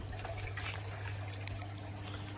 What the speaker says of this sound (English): Just pour a bit of water over, or nutrients over the top.